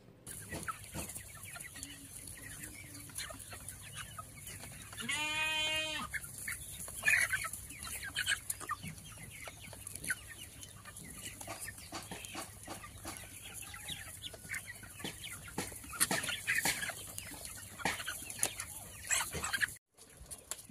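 Chickens on a poultry farm struck by an unknown deadly disease cluck quietly in the background, with one clearer, drawn-out call standing out near the middle amid soft scratching noise.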